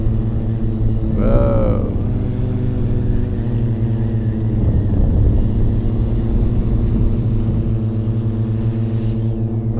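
A Redback Spider drone on an EDU-650 frame flies in to land, giving a loud, steady motor and propeller whine with layered tonal hum that holds throughout and tails off slightly near the end.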